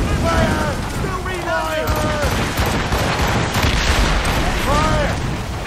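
Ship cannons firing in battle in Assassin's Creed Rogue, heavy booming volleys rolling continuously under shouted commands and voices throughout.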